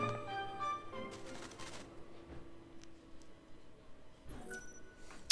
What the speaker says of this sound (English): Is anyone gonna make note of that bird?